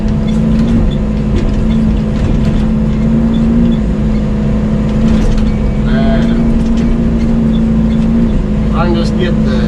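An excavator grading a pond dam runs with a loud, steady engine hum and a sustained tonal whine, close to the listener, while someone talks over it.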